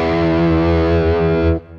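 Heavily distorted electric guitar through a Boss GT-1000's Marshall-style amp model, a sustained chord ringing loud and steady for about a second and a half before being cut short.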